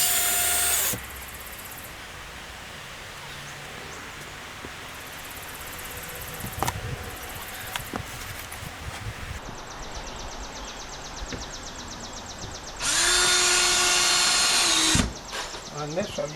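Power drill driving 1 5/8 inch galvanized number 2 screws into a shed, whirring in loud bursts at the start and end with quieter handling noises and clicks between.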